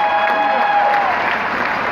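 Crowd applause and cheering in an ice hockey arena during the Clark Cup Finals, a dense steady roar with a sustained whistle-like tone early on, loud and continuous throughout.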